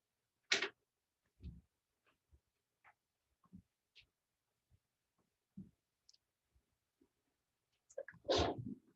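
In a quiet classroom, a single sharp sneeze bursts out near the start, followed by scattered faint clicks and taps and a louder cluster of thuds and noise at the end.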